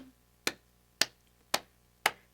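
Four single, evenly spaced hand claps ring out crisply at a library storytime, each short and sharp against near silence, at roughly half-second intervals.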